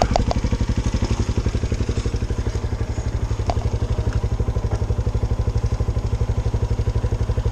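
A motorcycle engine idles close by with a steady, fast rhythmic putter and a few light clatters and thumps, running alone with no talk, as a part-time ride-hailing rider prepares to set off with a passenger.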